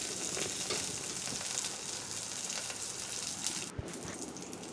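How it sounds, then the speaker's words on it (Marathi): Cumin and spices sautéing in hot oil, a dense continuous sizzle and crackle heard up close, with a brief soft knock near the end and no speech. "आता हे सर्व साहित्य तेलामध्ये छान परतून घ्यायचं."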